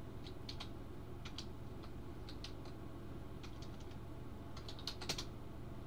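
Soft, scattered keystrokes on a computer keyboard tap in small clusters over a steady low hum, faint and fairly distant, with no voices.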